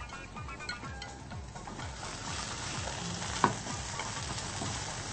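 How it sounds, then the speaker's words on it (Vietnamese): Carrots, bean sprouts, chives and scallions stir-fried in a hot pan with crispy fried liver, giving a steady loud sizzle with repeated scraping and tossing strokes and one sharp clink near the end. "Bây giờ chúng ta xào cho cà rốt chín sơ một chút."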